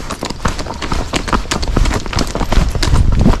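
Rapid, even hoofbeats of a step-pacing Rocky Mountain Horse on a trail, a steady four-beat patter close by with faint rustling underneath.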